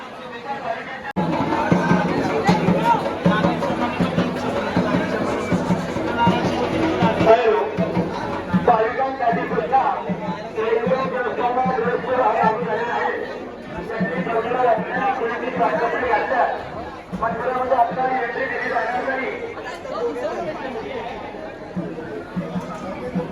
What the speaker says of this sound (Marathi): बघा गर्दी आतमधींची फुल पॅक